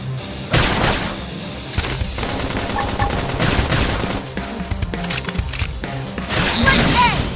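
Rapid bursts of gunfire and impacts in the Xenoblade Chronicles X combat, with sci-fi weapon fire rattling in volleys amid crashes, whooshes and game effects, loud and busy from start to finish.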